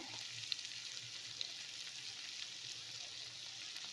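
White chickpea sundal with spice powder and grated coconut is stirred in a pan, giving a soft, steady sizzling hiss with a couple of light scrapes, quiet and close with no talking.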